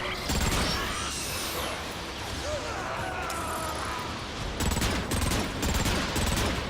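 Sci-fi gunfire in Transformers: Fall of Cybertron: loud, continuous rapid weapon fire with mechanical clanks and crashes throughout, growing denser near the end, close and with no talking.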